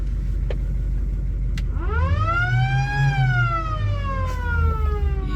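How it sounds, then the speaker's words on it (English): A police squad car siren winds up and wails loudly, heard from inside the car over the low rumble of its engine, after a few sharp clicks of a toggle switch. "Yeah, man, we got a siren."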